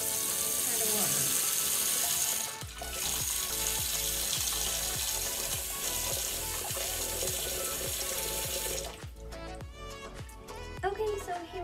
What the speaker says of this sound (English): we're going to plug this and we're going to add the water.